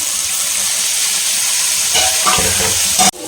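Fish fry masala with onions sautés in a pan, giving a loud, steady sizzle with some stirring scrapes toward the end, then an abrupt drop in level.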